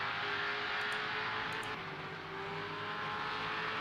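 Race cars in a V8 racing video game flying across the finish line at Sebring, a steady loud engine drone with a sustained whine that swells and eases slightly as cars pass, no voices.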